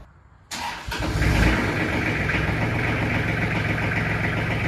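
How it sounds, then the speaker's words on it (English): A tractor engine cranks and fires after a short quiet moment, then settles into a steady, loud, close idle that rumbles on without a break. "get the tractor fired up."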